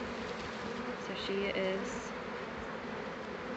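A swarm of bees buzzes continuously around their queen at close range, a dense steady hum with a person speaking briefly over it.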